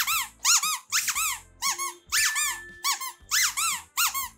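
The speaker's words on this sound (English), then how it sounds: "as annoying as these squeaky toys are, they really, really, really love squeaky toys" Squeaky dog toy squeaked repeatedly in quick pairs and bursts, loud and close, by a playing puppy, with no talking over it.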